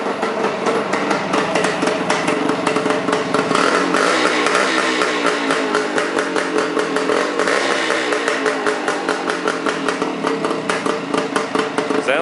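A Suzuki motorcycle engine runs steadily right after a carburetor rebuild, chugging loudly and continuously with an even, rapid firing rhythm throughout.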